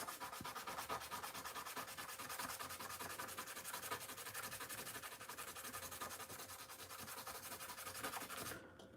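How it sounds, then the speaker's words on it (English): A cast toy part is sanded flat with quick, steady back-and-forth rubbing strokes, close and continuous for several seconds before stopping abruptly, no talking. "Sanded it flat, looks pretty good."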